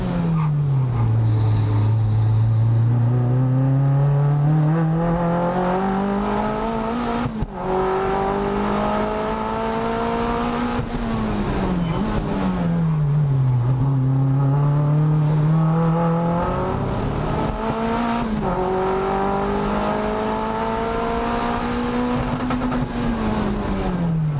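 A Mazda MX-5 time attack race car laps flat out at AusTimeAttack 2023. Its engine drones loudly and continuously, its pitch climbing and dropping through repeated gear changes and corners, with faint tire noise.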